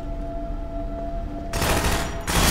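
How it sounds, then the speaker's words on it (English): Gunfire in the 2004 video game Half-Life 2: after a quiet stretch of low game ambience, a loud rapid burst of automatic shots erupts, pauses briefly, then resumes at close range. "What's shooting at me?"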